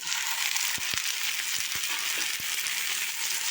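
Onion and okra sauté in a pan, a steady bright sizzle running throughout, with several sharp clicks and scrapes as a spoon stirs them. No one talks.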